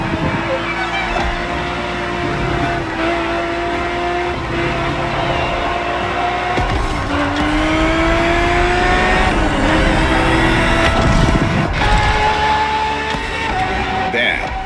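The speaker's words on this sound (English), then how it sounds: "365 GTB4 is the perfect vehicle for you to experience Ferrari racing as it felt back in the 70s" A 1970s Ferrari 365 GTB4 races in The Crew Motorfest, its engine revving up and down through gear changes, loud and close, with a voice talking over it.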